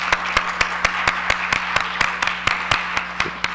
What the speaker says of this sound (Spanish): Vamos a pedir un aplauso para ti